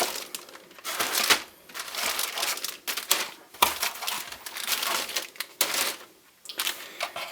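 Plastic packaging bags from a Trumpeter Messerschmitt Bf 109 E-3 model aircraft kit crinkle and rustle close by in bursts of crackling handling, with brief quiet gaps between them, and no speech.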